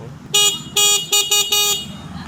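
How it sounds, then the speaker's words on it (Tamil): Horn of a Komaki Ranger electric motorcycle sounds in four loud, close toots: two longer blasts and then two shorter ones in quick succession, each a bright steady tone over quiet background. "ஹார்ன் எப்படி இருக்குன்னு பார்ப்போம்."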